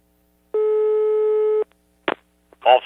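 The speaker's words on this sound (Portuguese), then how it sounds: "Olha, tá chamando aí." A single long steady tone of about one second sounds on a telephone line while a call rings through to a mechanic's shop, followed by brief clicks and a short burst of speech.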